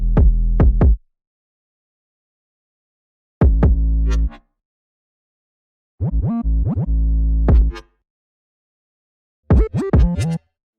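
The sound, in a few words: drill beat with 808 bass and kick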